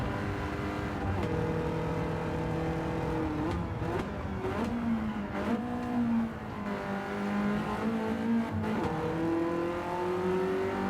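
Mercedes DTM race car engine in a racing video game, a loud continuous rattling note with rising and falling pitch as it revs through gears, steady and close throughout.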